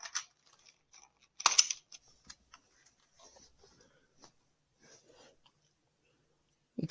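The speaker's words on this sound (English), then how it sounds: "It's a mechanical keyboard. As you can see, you can take off, like, the keys and stuff." Keycaps being pulled off a mechanical keyboard give a scatter of sharp plastic clicks and ticks, one louder cluster early, then sparse faint taps against near silence.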